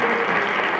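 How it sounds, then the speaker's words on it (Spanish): Audience applause at a neuroscience and neuroaesthetics lecture, a dense, even roar of many hands clapping throughout, loud and close. "les pido un fuerte aplauso"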